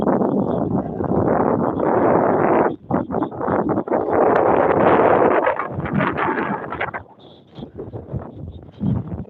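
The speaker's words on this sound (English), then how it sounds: "Pardon the wind." Strong wind buffets the microphone outdoors in open country near a barbed wire fence, a loud, continuous roaring rumble with brief dips and gusts, with no one talking.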